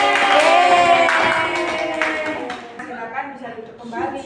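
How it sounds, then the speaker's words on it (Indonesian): A classroom group claps briefly for a presenting team, a short burst of applause that quickly thins out under a speaking voice. "beri tepuk tangan"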